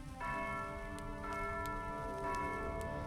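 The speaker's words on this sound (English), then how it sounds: "At the beginning of the new day, you hear bells." Church bells ring out at the start of a new day in a fantasy tabletop adventure. Several rich, overlapping strikes sound loud and steady, with no talk over them.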